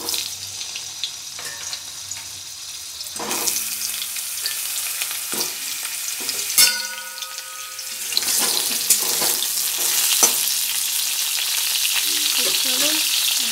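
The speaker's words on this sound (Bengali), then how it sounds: "এবার আলুগুলোকে আমি ভালোভাবে ভেজে নেব।" Potato pieces fry in hot oil in a pan on a gas stove, giving a steady close sizzle that grows louder, with occasional clattering stirs and splashy bursts.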